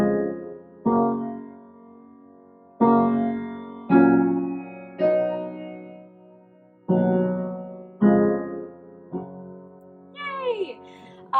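Piano playing the verse of a song with both hands, a slow series of struck chords, each ringing and fading before the next, with a short burst of voice near the end.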